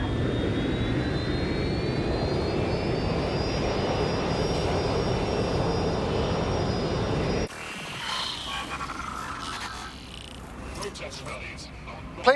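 A jet airliner in the video game Watch Dogs: Legion: a loud, steady engine roar with a high whine that climbs and then holds, cutting off abruptly partway through to quieter game ambience.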